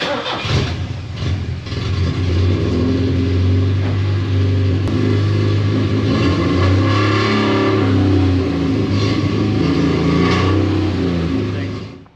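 A 1977 Porsche 924 race car's engine starts and runs loudly nearby, a steady mid-pitched drone with revving swells for about twelve seconds as it pulls away, with faint voices in the background.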